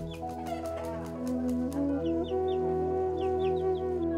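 Chickens at feeding time in a boarding school coop in the Gayo highlands cluck softly under a sustained tonal hum, with drawn-out calls gliding through the background.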